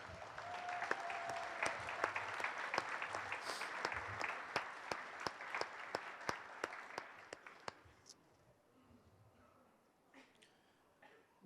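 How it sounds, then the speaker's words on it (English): Audience applause at a city inauguration ceremony, steady clapping that gradually thins and fades away toward the end, with a few isolated claps left near the close. "How about another round of applause?"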